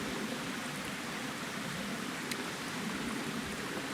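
Steady broadband rushing of a stream flowing through a big creek bottom in the New Hampshire mountains, an even, unbroken wash of water at moderate level, with no voices.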